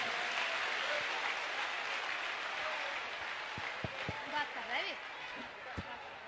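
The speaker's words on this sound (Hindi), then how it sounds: "बिटिया के लिए खूब ताली बजाओ" Crowd applause at a Mahashivratri event at Bageshwar Dham in Gadha village, Chhatarpur district, steady and dense across the whole stretch, with a voice briefly audible over the clapping near the end.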